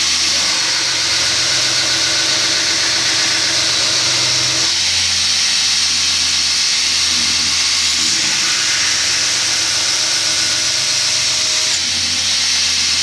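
A round bar knife being ground on a powered grinder, a loud, steady high-pitched whine and hiss that runs continuously with slight shifts in tone.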